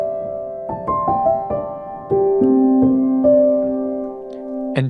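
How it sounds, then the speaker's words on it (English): A simple piano plays a few single notes and chords, each ringing out and sustaining, ending with a brief final strike. "take a simple piano sound like this"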